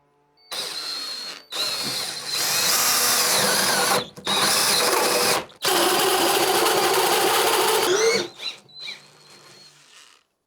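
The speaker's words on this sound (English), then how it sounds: "which I'm going to drill out with a hole saw" A power drill with a 54mm hole saw grinds loudly through a wooden door in several long bursts separated by brief pauses, the motor pitch dipping under load.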